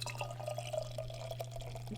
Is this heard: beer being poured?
yes